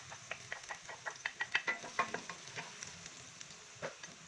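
Garlic sautés in hot oil in a pan, a faint crackling sizzle with a string of soft spatula taps and stirring scrapes, quiet and close with no voices.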